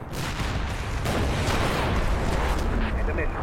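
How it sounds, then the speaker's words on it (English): Heavy howitzer artillery in a war video game, a dense rumbling barrage of booms and blasts rolling on continuously and loudly throughout. "My howitzers are finishing up."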